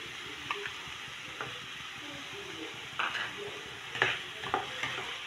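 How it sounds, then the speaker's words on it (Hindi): Chicken breast frying in a pan with garlic and ginger, a steady soft sizzle broken by occasional clinks and scrapes of a spoon stirring, fairly quiet and close. "लहसुन अदरक के साथ 1 से 2 मिनट हमने चिकन को कुक किया है"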